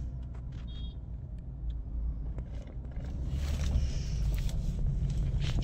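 A car on a village road, its low engine rumble steady and building slightly louder toward the end, with faint knocks and clicks from inside the cabin and no talking.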